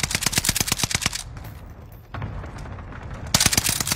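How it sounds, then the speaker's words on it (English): Rapid bursts of automatic gunfire from Call of Duty Warzone on Fortune's Keep, a dense volley of sharp shots, a short lull with softer game sounds, then another loud burst. "everyone was shooting at me"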